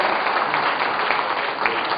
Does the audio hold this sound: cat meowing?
no